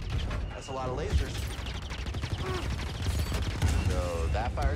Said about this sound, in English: That's a lot of lasers.